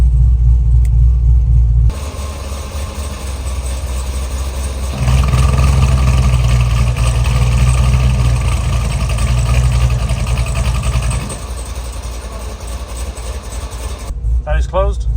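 Chevrolet Corvette C6 ZR1 with switchable exhaust valves, engine idling and revving in a deep rumble that swells louder midway then settles, with a short quieter pause near the end.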